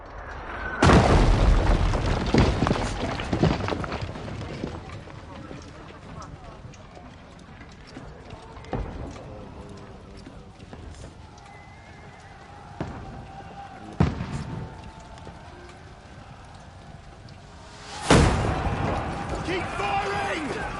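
Medieval weapons firing in Kingdom Come Deliverance 2, heard as a few heavy booming blasts spaced across the scene, with hoof-like clatter and rumbling battle noise between them and voices talking throughout.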